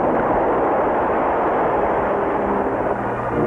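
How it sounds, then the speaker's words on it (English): A cartoon atomic explosion effect: a loud, dense roaring rumble that fills the whole stretch without letup, with no voices. "didn't wake up until that first atomic explosion"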